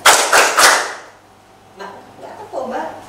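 A group of people in a classroom clapping hands together in three quick loud bursts, followed by quieter voices talking.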